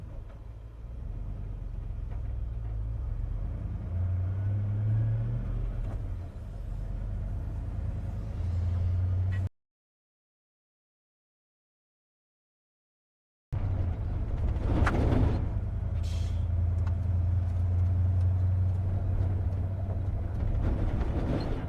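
A car rolls along a rough, bumpy road with a steady low rumble and rattling vibration. The sound cuts out briefly, then resumes with a few jolts and knocks from the uneven surface.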